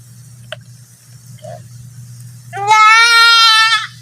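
A backyard goat gives one loud, drawn-out bleat near the end after a quiet stretch of low background hum and a few faint small noises.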